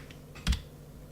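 A single computer keyboard key is pressed once as an editing shortcut in 3D mesh modelling software, a short soft click near the middle of an otherwise quiet stretch.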